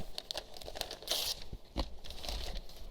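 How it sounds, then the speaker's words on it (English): Dictionary pages torn into sections by hand, close papery rips and crinkles in quick irregular bursts, one louder tear in the middle, with no talk. "I'm just going to rip up sections like this."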